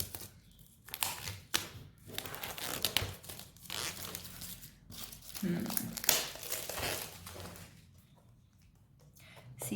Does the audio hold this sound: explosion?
no